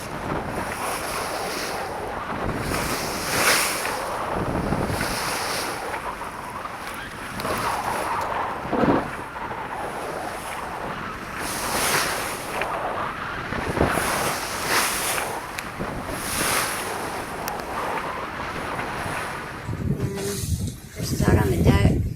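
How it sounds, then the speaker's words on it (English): Rolling seas slosh and surge around a sailboat on a river near Tampa Bay while steady wind buffets the microphone, with waves washing past in broad, repeated swells close by. "the seas got a little rollier and the wind picked up a bit"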